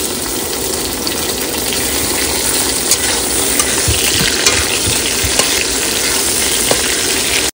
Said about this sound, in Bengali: আবার তেল দিয়েছি, তেল গরম হয়ে গেছে। এবার কিন্তু পেঁয়াজ দিয়ে দেবো।